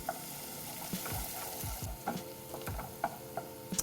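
Onions brown in a pan with a soft, steady sizzle, while repeated scrapes and taps of a utensil stir them close by; no one speaks.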